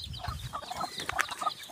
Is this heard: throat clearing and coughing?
no